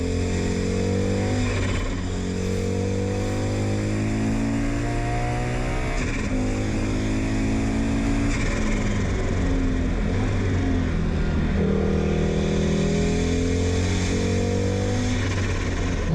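An Audi Quattro engine roars steadily at high revs, a loud, continuous droning growl with slow shifts in pitch as the car accelerates and eases, heard close and alone for the full stretch.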